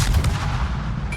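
Naval gunfire from a Kiev destroyer in the World of Warships video game: dense, low booming artillery rumble filling the short stretch, steady and loud with no talk over it.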